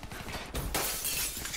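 Breakable object shattering on impact in Call of Duty: Black Ops III, a sharp burst of breaking glass-like debris that follows a brief thud and keeps clattering loudly to the end.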